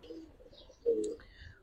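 A pigeon at a market stall selling coloured pigeons gives a short throaty coo near the middle, with soft voices and faint chirps around it.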